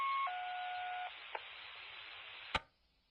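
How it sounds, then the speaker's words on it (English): Fire station alert tones come over a radio scanner: a few seconds of steady, then stepped, electronic tones, followed by a brief click and a sharp burst of static before the signal cuts to near silence. "Those irritating noises are the individual fire station tones to open their station."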